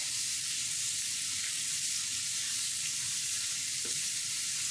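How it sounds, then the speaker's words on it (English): Vegetables sautéing in a pan with a continuous soft sizzle and hiss, fairly faint and even, with light stirring, no talk over it. "Stir it around a little bit, mixing the vegetables very nice."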